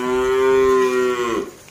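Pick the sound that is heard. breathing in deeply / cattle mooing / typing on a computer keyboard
cattle mooing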